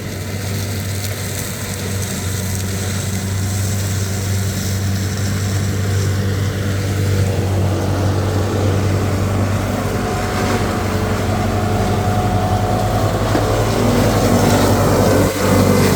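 A tractor trimming the edge of a roadside field drones past with a steady, loud low engine hum, its rushing cutting noise building as it draws nearer.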